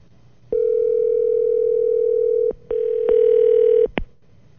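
A telephone dial tone hums steadily for about two seconds, then breaks off into short dialing tones and a clicking pickup as a cell phone call is placed live during a radio broadcast.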